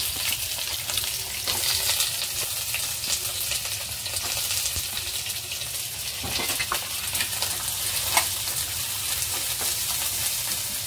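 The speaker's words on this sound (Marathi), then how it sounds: "मी 1 चमचा तेल टाकले आपण आणि त्याच्यामध्ये आपण हा कांदा टाकूया" Onion frying in a spoonful of hot oil, a steady close hiss of sizzling with occasional soft stirring scrapes, continuous for the whole stretch with no talking.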